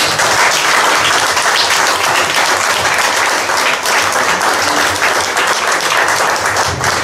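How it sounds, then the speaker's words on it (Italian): A large audience applauds steadily and loudly for several seconds, a dense, even wash of clapping. "sia fatto un grande applauso"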